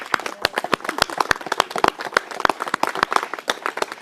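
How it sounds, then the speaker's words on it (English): A small group claps briskly for public servants at an announcement by Minister Tim Hodgson on cutting energy bills and emissions, sharp individual hand claps overlapping in an uneven patter, close by with no talking. "give a round of applause to the public servants"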